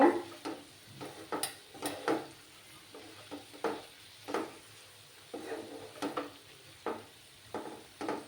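Garam masala is stirred into eggplant curry in a pan, producing a regular series of scraping, clattering spoon strokes about twice a second over a soft, low sizzle, with no speech.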